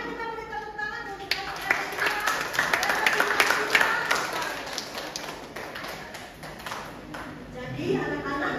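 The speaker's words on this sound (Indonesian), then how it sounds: "mari kita beri tepuk tangan untuk" Children and adults clap together at a church preschool graduation service, a steady patter of hand claps and small taps that swells in the middle, with voices talking over it throughout.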